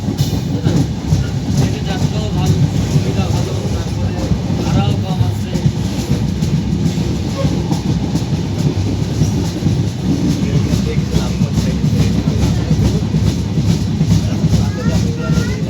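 A crowded Jahanabad Express passenger train in Bangladesh rumbles steadily along the tracks with a rhythmic clatter of wheels, loud and close throughout, with faint voices mixed in.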